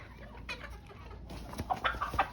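A young rooster being raised as a future broodcock clucks several times nearby in short bursts, quiet at first and then louder, with faint background noise on a farm.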